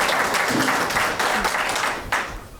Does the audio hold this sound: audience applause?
yes